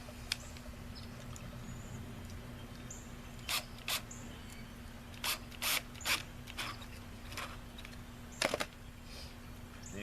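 No-hub clamps on a sump pump check valve are tightened with a ratcheting tool, producing short clusters of quick metallic ratchet clicks, close and fairly quiet over a steady low hum, with no talking.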